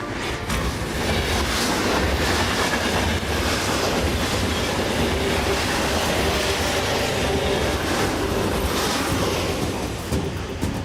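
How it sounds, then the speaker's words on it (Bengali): A runaway driverless freight train hauling highly flammable oil tankers rumbles past loudly and steadily, with continuous wheel clatter and rail noise throughout and no voices. "একটা মালগাড়ি যাতে হাইলি ইনফ্লেমেবল অয়েলের ট্যাঙ্কার রয়েছে, উইদাউট ড্রাইভার আসছে।"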